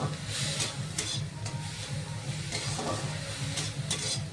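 Cooking oil sizzles and hisses as it heats in a frying pan at home, ready for onion, ginger and garlic. A soft, continuous crackle is broken by a few sharper bursts of spatter and faint stirring.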